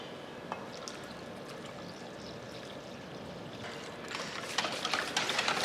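Water pours into a whisked yogurt batter in a kitchen, a quiet steady trickle that grows louder and more splashy toward the end, with no one speaking.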